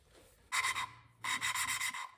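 An engine valve from a 2005 Lexus ES330 is lapped with lapping compound and a suction cup, giving two gritty, rasping bursts of back-and-forth rubbing, each under a second long, close up with a short pause between.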